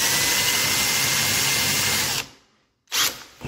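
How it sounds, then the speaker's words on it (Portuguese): A handheld power drill bores out a rivet in the front door of a Polo while the window regulator and door lock are being replaced. It whines steadily and loudly for about two seconds, stops, then starts again briefly. "Vamos chegar aqui, ó, no arrebite. E vamos furar ele."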